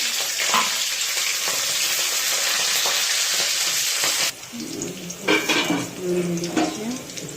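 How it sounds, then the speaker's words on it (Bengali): Dried and green chillies dropped into hot oil in a pan for a vegetarian taro-leaf dish, a loud steady sizzle that drops off sharply, followed by metal pot and utensil clinks and scrapes. "তেল দিয়ে দিই। এই দেখো, শুকনো লঙ্কা দিয়ে দিচ্ছি, কাঁচা লঙ্কা দিয়ে দিচ্ছি"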